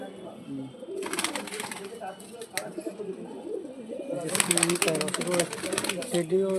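Golden pigeons coo in low, throaty murmurs, joined by bursts of fluttering wings nearby and people talking in the background.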